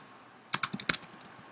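Keystrokes on a computer keyboard, a short burst of about eight crisp clicks in quick uneven rhythm, close and clear against a quiet background.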